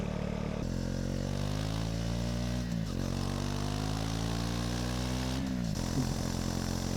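A motorcycle engine revs steadily near the listener, its pitch climbing, dipping briefly twice, and rising again.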